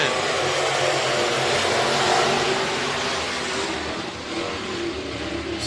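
Sprint cars roar together under green at Crawford County Speedway, a loud, dense, sustained engine drone with no gaps, racing close by throughout.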